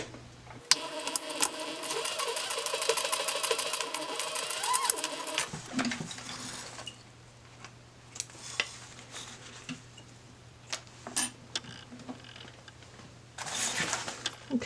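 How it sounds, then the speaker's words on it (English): A sewing machine top stitches along a folded edge, a fast steady motor whir for about five seconds, followed by quieter handling noises and a brief second burst of stitching at the end. "And then I'm going to top stitch right along this folded edge."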